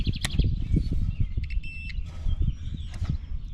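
A continuity tester gives a brief, thin electronic beep while probing the deck switch of a Husqvarna YTH15 riding mower, the short tone rising from rumbling handling and clicking noises in a workshop.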